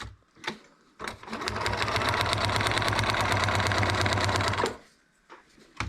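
A sewing machine stitching a paper-pieced quilt block, a brief stutter and then a steady, fast mechanical whir and rapid needle chatter that lasts several seconds before stopping, heard up close.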